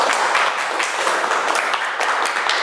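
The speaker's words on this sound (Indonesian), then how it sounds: "beri aplaus untuk kelompok 1" A classroom group gets a round of applause, dense close clapping from many hands that continues steadily and loudly for a few seconds.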